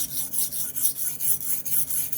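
A knife blade being sharpened, rasping in steady back-and-forth strokes about every quarter second, close and loud, with a bright gritty scrape and no voices.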